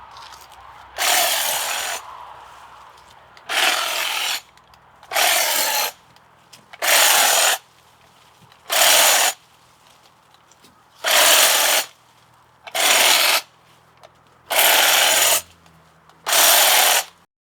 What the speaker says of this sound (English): for that, I'm going to use my hedge clipper